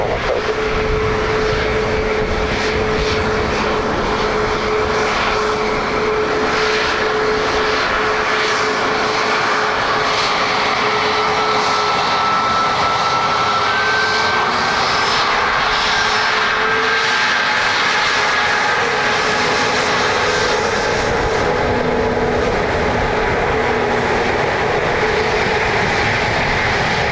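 An aircraft lands on runway 28 left at Dublin Airport, its engines a steady, loud roar with whining tones that holds unbroken throughout.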